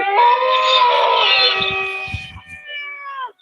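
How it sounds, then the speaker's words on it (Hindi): Dogs and jackals howl at night along a rural road, one loud, near, wavering howl held for about three seconds before tapering off, with no speech. "कुत्ते भी हुआ रहे हैं, कुत्ते भौंक रहे हैं,"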